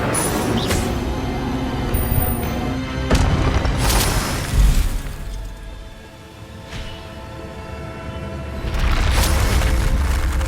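Fire spells cast in the game Hogwarts Legacy, heard as several loud whooshing bursts and booms spaced a few seconds apart over a rumbling game background.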